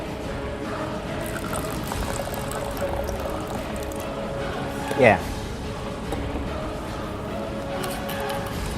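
Strawberry-flavored white cranberry juice pours briefly into a mixed drink, a short liquid splash amid steady background noise and nearby speech.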